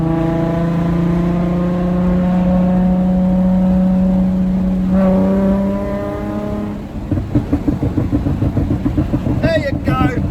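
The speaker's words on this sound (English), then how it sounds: "When that exhaust gets warmed up, she's gonna flame." Nissan 350Z with an Agency exhaust, heard close and loud as it holds a high steady rev, climbs higher, then drops back to a rough, rapidly pulsing idle, with people talking over it.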